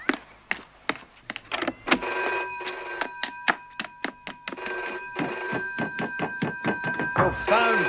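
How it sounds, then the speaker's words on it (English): An old-style telephone bell rings in repeated rapid bursts, loud and close, with a brief knock and a voice faintly underneath. "Your phone's ringing."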